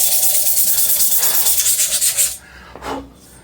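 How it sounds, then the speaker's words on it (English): A steel bike stem spins in a drill chuck while sandpaper or a file is pressed against it to strip mill scale, giving a steady, close, pulsing scrape for over two seconds before it stops, then one short scrape near the end. "wrap this in sandpaper, chuck this up in the drill so it's spinning like a drill bit, and just hold the file or sandpaper against it up and down"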